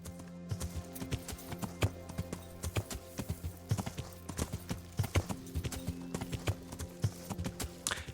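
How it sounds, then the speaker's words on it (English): Horse hooves clip-clop in a steady rhythm through Kingdom Come: Deliverance, close and fairly loud over a low in-game ambient hum, with a brief whinny early on. "Come on, horsey, you can go for there."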